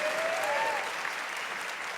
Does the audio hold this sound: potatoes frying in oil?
no